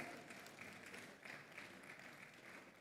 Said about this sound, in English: All right, a round of applause for them again